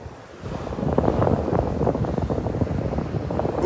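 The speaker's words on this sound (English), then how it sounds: "Windy." Strong wind buffets the microphone on a Gulf beach at Delnor-Wiggins, with steady roaring gusts and a wash of surf underneath, loud and continuous throughout with no talking.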